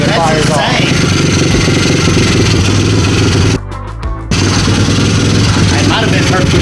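A freshly installed 88cc T-Bolt USA bicycle engine kit idles loudly and steadily up close, cutting out briefly before running again, with people talking over it.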